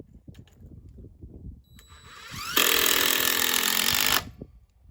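A DeWalt impact driver drives a screw in one continuous loud burst of rapid hammering that lasts about a second and a half, following quieter handling noise.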